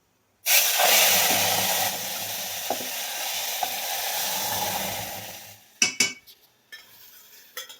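Dal dropped into a hot oil tempering of mustard seeds, asafoetida and curry leaves, a sudden loud sizzle that slowly fades, then scraping stirring and clinks of a utensil against the pan.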